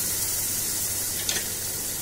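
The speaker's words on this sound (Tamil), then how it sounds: "இந்த ஸ்டேஜில் நம்ம கிரைண்ட் பண்ணி வச்சுருக்க வாட்டர் மெலன் பேஸ் ஆட் பண்ணிக்கோங்க." Ground watermelon paste cooking in a pan for halwa, a soft steady sizzle with one brief scrape of stirring midway, close but fairly quiet, with no talking.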